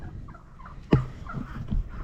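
Wyandotte chickens in a backyard pen let out a few short clucks and calls, one sharp sudden call near the middle standing out over quieter murmuring fowl sounds.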